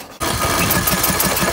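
A Briggs engine on a Craftsman mower that won't start, cranked over with a hand covering the air intake, giving a loud continuous whirring, chugging cranking sound close up.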